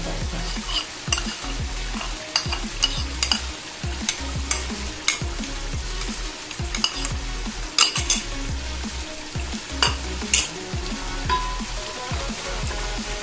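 A spoon works a masala and yogurt mixture into a pot of Delhi nihari, with repeated scraping and clanking against the metal over a continuous sizzle, close and steady.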